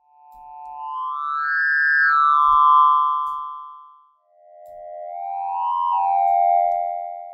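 The Meteor 001 wavetable oscillator in the Vital 1.5.1 synthesizer, playing two long, resonant, swelling tones that rise and fall in pitch, each fading in and out, alone without talk.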